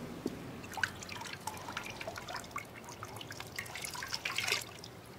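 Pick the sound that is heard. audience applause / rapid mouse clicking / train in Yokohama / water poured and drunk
water poured and drunk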